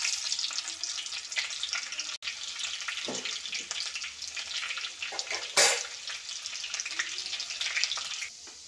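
Chopped onions hitting hot oil with already popped mustard seeds for a Kerala-style clam roast, giving a loud steady sizzle and frying crackle with brief stirring scrapes; no one speaks.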